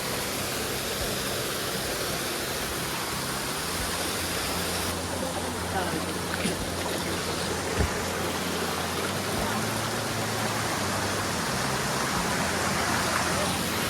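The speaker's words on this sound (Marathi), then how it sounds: "धबधबो" A hidden hot-water waterfall in the Konkan hills during the monsoon gives a steady, dense rushing roar heard close and unbroken throughout, with voices faintly beneath it.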